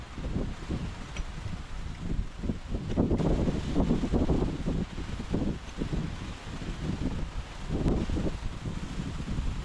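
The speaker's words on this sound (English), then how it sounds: "Stupid wind is blowing stuff onto the threads." Gusty wind blows outdoors at a hydroelectric pipe-trenching site, a steady low rumbling buffet with rustling that swells and eases over several seconds, and no one speaks.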